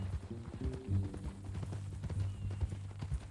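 Horse hooves clip-clop at a steady run in Red Dead Redemption 2. The beat is close and continuous, with low rumbling underneath and no talking.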